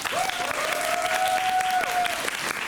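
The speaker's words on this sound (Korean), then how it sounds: "큰 박수 부탁드리겠습니다" Steady applause from a musical theatre audience at a curtain-call stage greeting, dense clapping filling the whole stretch, with a sustained tone running beneath it.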